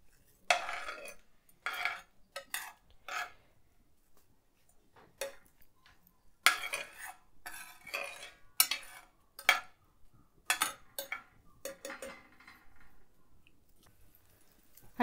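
A cazuela clatters on the stove while cooking, with scattered clicks, taps and scrapes of metal and utensils coming in short uneven bursts amid quiet pauses, close and fairly soft, with no talking.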